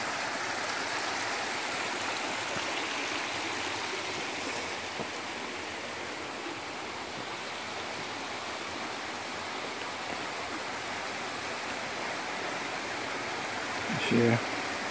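Water trickling and dripping at a rock face along a forest route in the eastern Mecsek hills, a continuous soft splashing wash, with a brief voice near the end.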